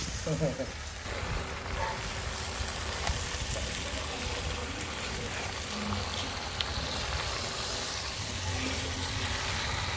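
Fish coated in chilli powder frying in oil, a steady close crackling sizzle that runs the whole way through, with brief clatter and a low hum underneath.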